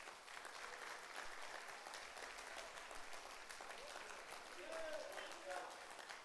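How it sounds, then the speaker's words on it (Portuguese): A church congregation at a men's congress applauds, with steady, dense clapping that runs throughout at a faint level and a few voices mixed in. "Vamos aplaudir o Senhor Jesus?"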